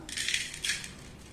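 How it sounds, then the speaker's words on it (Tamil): Coarse rock salt tips into a cooking vessel in a quick dry rattling pour with two small surges, close and fairly quiet. "முதல்ல கொஞ்சம் கல் உப்பு சேர்த்துக்கலாம்"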